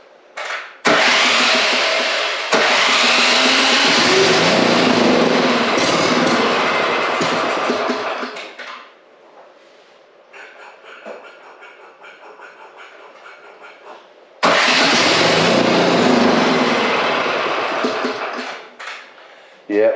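A free snowblower's engine with a carburetor fault that floods fuel out of the overflow: it cranks and runs loudly and roughly for several seconds, cuts out to a quieter idle or mechanical clatter, then roars back up near the end.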